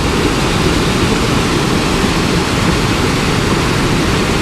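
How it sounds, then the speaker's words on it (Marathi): Floodwater rushes through a swollen river during heavy monsoon rain in Konkan, a loud, steady, roaring wash of water that runs unbroken close by with no voices. "किती पाणी येतं आता बघा"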